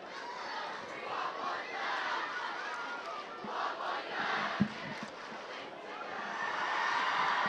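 A crowd roars and cheers at a high school football game between LO and Oxford, a broad, sustained wash of many voices that rises and falls, with a few thumps and a louder swell near the end.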